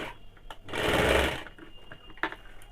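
A sewing machine stitches a seam on a kaftan nightie in one short, steady whirring run of under a second, close by, with quiet room sound around it.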